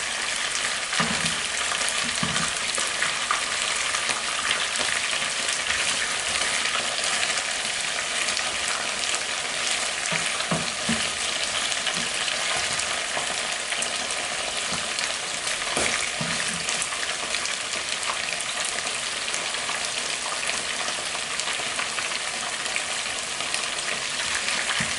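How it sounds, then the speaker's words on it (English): Chopped onion stir-frying in a pan for Spanish paella, a steady loud sizzle and crackle throughout with occasional scrapes of stirring, close up and without speech. "I need to stir fry my onion"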